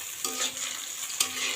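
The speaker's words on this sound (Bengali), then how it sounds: "তেলটি দেওয়ার পর অনেক সুন্দর ভাজা হচ্ছে।" Food sizzles and fries steadily in mustard oil in a pan, a continuous close hiss with a couple of brief stirring clinks.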